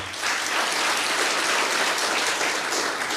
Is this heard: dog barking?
no